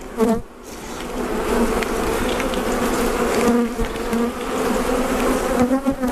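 Honeybees from a colony being split swarm around the opened hive in a loud, steady, continuous buzz that holds throughout, with small swells in intensity.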